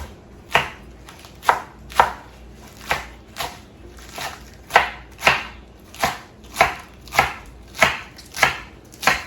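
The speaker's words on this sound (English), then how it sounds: "I like my greens cut up pretty small" Salad greens being chopped into small pieces with a knife on a cutting board, a steady series of about fourteen crisp, close thuds in a regular rhythm.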